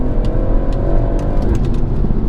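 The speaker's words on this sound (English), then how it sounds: "make sure we are in manual, foot on the brake, go" A car in manual mode pulls away hard from a standstill on lightweight wheels, loud engine roar building steadily and filling the whole moment without talk.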